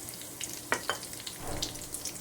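Cumin seeds, chillies and curry leaves crackle in hot oil for a tempering, giving a soft, steady sizzle with a few sharper pops, heard close up with no voices.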